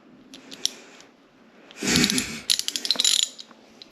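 A ratchet wrench is worked to loosen a stuck main breaker, first with a few isolated clicks and then with a dense run of quick, loud close-up ratcheting clicks.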